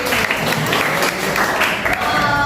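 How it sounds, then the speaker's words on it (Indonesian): A class in an Indonesian-language teaching session claps for the student Zizir, a short burst of close, bright handclaps in uneven clusters lasting a couple of seconds. "Tepuk tangan untuk Zizir."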